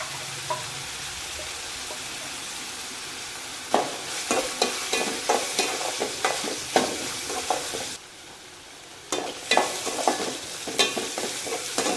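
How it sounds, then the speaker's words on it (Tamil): Spinach cooking in a pan for a Tamil-style keerai kadaiyal, stirred steadily with a spoon: a soft continuous sizzle broken by repeated scraping strokes, close and with no talking. "இன்னும் கொஞ்சம் கீரை வேகணும் இப்போ கொஞ்சமாக சோம்புத்தூள் சேர்த்துக்கலாம்"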